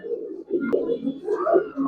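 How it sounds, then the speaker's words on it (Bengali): An old-breed Giribaz pigeon cooing up close in soft low throaty rolls, a short pause and a sharp tap partway through. "ভাই মাশাআল্লাহ একটা কবুতর ভাই, পিস খুব সুন্দর"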